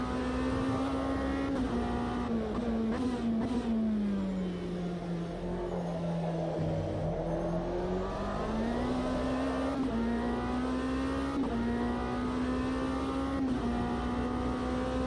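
A race car engine in the racing game Automobilista 2 drones steadily at high revs, its pitch dipping and climbing again as it slows and accelerates, loud and close throughout.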